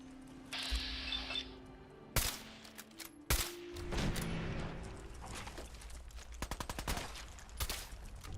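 Gunfire in Fallout 4, with scattered single shots and short bursts cracking loudly against a steady ambient bed, followed by a denser run of rapid shots toward the end.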